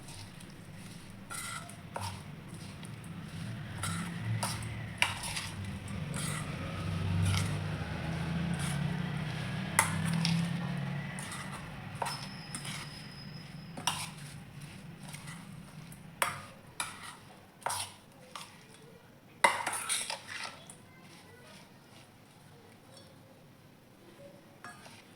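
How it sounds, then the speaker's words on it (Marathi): Green chili pickle ingredients being mixed in a bowl, with a quiet low rustle of stirring followed by scattered soft clinks and taps of a spoon against the bowl, fairly faint overall. "सर्व आता मिक्स करून घेऊ आपण."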